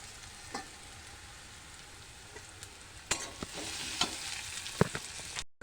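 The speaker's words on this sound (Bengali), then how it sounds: "পেঁয়াজগুলো একটু লাল লাল করে নেবো, নিয়ে আদাগুলো দিয়ে দেবো" Onions and grated ginger fry in a pan with a steady, moderately loud sizzle, broken by a few sharp clicks and knocks of stirring, especially in the second half.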